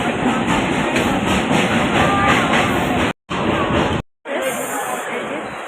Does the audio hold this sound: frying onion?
no